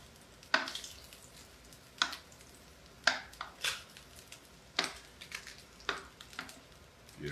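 Cooked Spam slices lifted from a skillet onto a plate during a Spam taco cook, giving several sharp scraping and clinking hits spaced a second or so apart, close by and with no talk.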